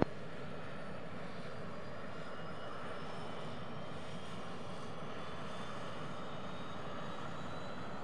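A Qantas airliner on its landing approach gives off a steady, unbroken aircraft engine drone at an even, moderate level throughout, with no voices.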